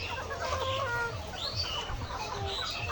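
Several 78-day-old layer chickens on a farm cluck and chatter nearby in overlapping bursts, a busy, steady flock sound with no talking.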